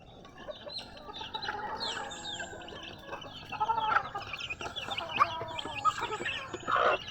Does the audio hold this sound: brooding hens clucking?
yes